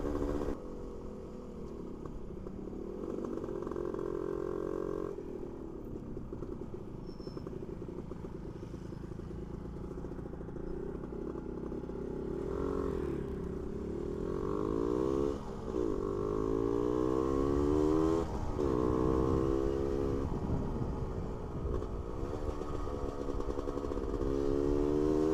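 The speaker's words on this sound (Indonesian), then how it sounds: "Seperti itu karakter mesin dari Suzuki RK Cool 110 cc." A Suzuki RK Cool 110 cc motorcycle engine runs steadily, close by, with a continuous low throbbing drone that rises and swells as it is revved around the middle and later part, mechanical clatter underneath.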